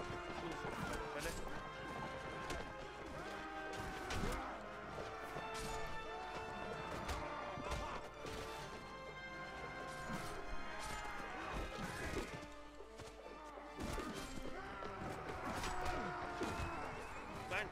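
A horse takes hits during a battle in the video game Mount & Blade Warband. Hooves clatter and weapons clash and thud through a busy, fairly faint battle din, with neighs mixed in.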